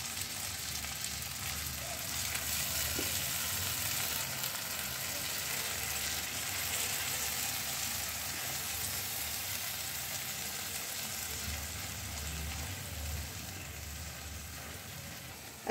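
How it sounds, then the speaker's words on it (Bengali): Pureed spinach frying in hot oil in a pan, a steady soft sizzle that holds evenly throughout with no voices. "এবার এই যে মিক্সিতে বেটে রাখা যে পালং শাকের মিশ্রণটা, সেটা আমি এর মধ্যে দিয়ে দিলাম।"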